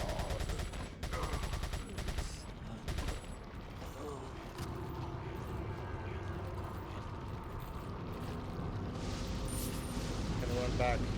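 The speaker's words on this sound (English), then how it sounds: "Pull out the TMP. I usually just waste all my ammo on these guys." TMP machine pistol fire in Resident Evil 4 at a castle, with bursts of rapid shots over a dense, steady game soundscape that holds loud all through.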